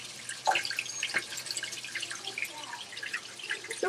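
Water runs into a wildlife-care sanitizer, making a faint, uneven dripping trickle that continues softly throughout and is heard alone.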